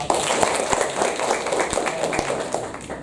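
Hand clapping in a classroom, a steady patter of many pairs of hands at moderate loudness with a few sharper individual claps standing out, continuing throughout with little else.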